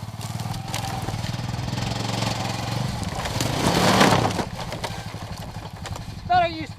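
Honda Pioneer 500 long-travel side-by-side crawling over rocks in two-wheel drive, its engine droning steadily and rising briefly as it climbs, with people talking over it.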